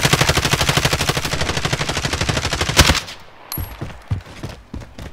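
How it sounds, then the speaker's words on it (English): Rapid automatic gunfire in a shooter video game, a loud steady burst of about three seconds followed by a few scattered shots and softer impacts. "What the fuck are y'all shooting at?"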